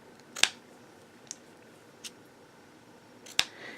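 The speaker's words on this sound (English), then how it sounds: "And so at this point, we're going to go ahead and cut it." Scissors snip through ribbon for a handmade card bow, with two crisp, close cuts and a couple of fainter clicks in between against quiet surroundings, and no one speaking.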